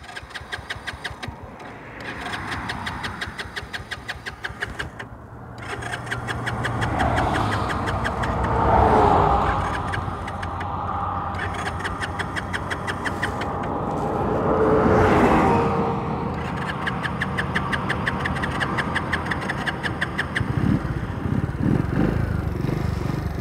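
A 50cc Mondial SFC moped engine idles roughly and stutters after running out of fuel, its close uneven putter swelling twice into louder revs before settling back to a sputtering idle.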